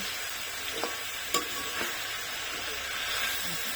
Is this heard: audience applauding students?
no